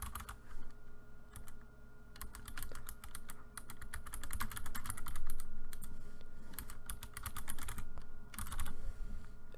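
Someone types text on a computer keyboard with rapid clicky keystrokes in bursts and brief pauses, close and clear over a low steady background hum.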